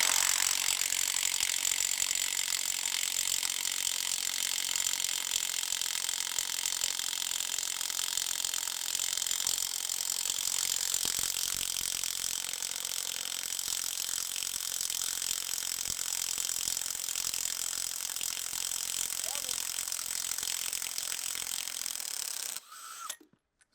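A Milwaukee cordless impact wrench strains against a semi truck lug nut, a steady loud mechanical rattle and hammering that runs continuously for over twenty seconds before cutting off abruptly near the end.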